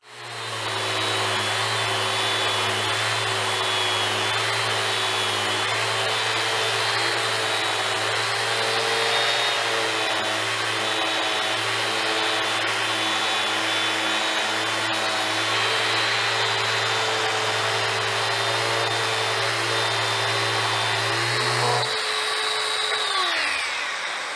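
A Bosch GET 75-150 eccentric orbital sander runs continuously for over twenty seconds, a loud, steady whining motor hum with a smooth abrasive hiss, then spins down near the end.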